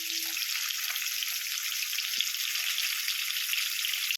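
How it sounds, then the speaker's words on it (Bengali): A batch of four fish fries in oil in a pan, giving a steady, even hiss that is close and moderately loud. A brief knock comes near the end. "চারটে মাছ আগে ভেজে নিই আর চারটে মাছ পরে ভাজবো"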